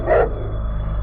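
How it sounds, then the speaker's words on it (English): A small dog with a surprisingly deep bark lets out a single sharp bark close by, followed by a low, steady background hum. "my dog finally noticed him and started barking"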